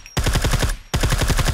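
A suppressed rifle fires in rapid bursts in the survival game SCUM: two strings of quick, muffled shots separated by a short pause, loud and close with no talk.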